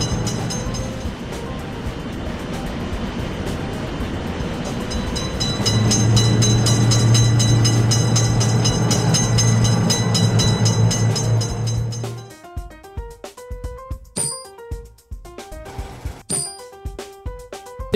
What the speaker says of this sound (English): Attention, train is coming. Train is coming.